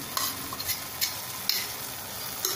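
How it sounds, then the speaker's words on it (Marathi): Cooked dal is stirred into chakvat leafy greens in a pan, making a gentle steady sizzle broken by several quick spoon scrapes and taps. "नीट मिसळून घ्यायचं आहे आपल्याला व्यवस्थित।"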